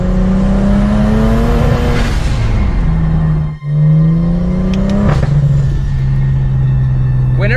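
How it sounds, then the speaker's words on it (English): A BMW 335i engine revs hard and strains while struggling uphill, a loud continuous drone whose pitch climbs twice and drops with a brief cut-out midway, close to the car. "Oh, the car's barely driving right now."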